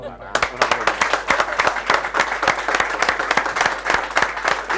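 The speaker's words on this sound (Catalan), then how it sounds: "Un aplaudiment." Applause from a studio audience at a Catalan variety TV show, a steady patter of many clapping hands from near to mid distance that keeps up throughout, fairly loud and with no talk over it.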